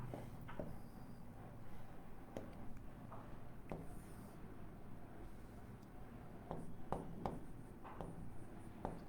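Marker or chalk writing on a board during a maths class, scattered short scratchy strokes and taps at a quiet level, with faint room noise and no clear speech.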